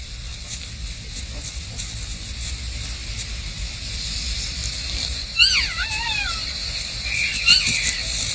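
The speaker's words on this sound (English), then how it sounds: "It's the cry of a fawn." Axis deer fawn crying from hiding in grass, a couple of thin, high wavering squeals partway through, fairly close, set against a constant background of insects and wild ambience.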